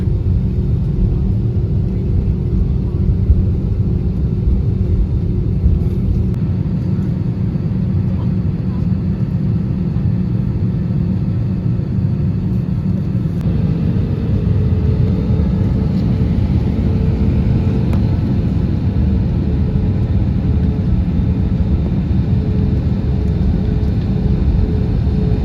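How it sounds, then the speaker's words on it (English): A Boeing airliner rumbles steadily on the runway for takeoff toward the west, a continuous low engine roar with a faint whine, heard from inside the cabin without pause. "this means our plane will take off towards the west"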